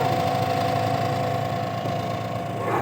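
A spin dryer motor fitted with a new capacitor runs at speed, giving a steady, even whirring hum that stays close and unbroken with no voices.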